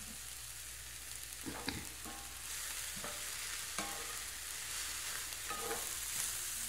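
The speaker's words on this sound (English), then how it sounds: "The sizzling now is when the cabbage is losing its water." Cabbage fries in hot oil with a steady, bright sizzle, broken by a few scattered knocks and scrapes from stirring, heard close and alone.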